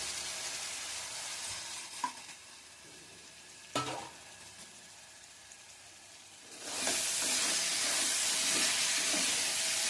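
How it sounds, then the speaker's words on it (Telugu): Crabs drop into a hot pan of curry with a loud, broad sizzle that swells suddenly partway through and holds steady, after quieter frying with a few clinks and stirring knocks. "ఒకసారి మనం పీతలు కూడా వేసేసుకుందాం."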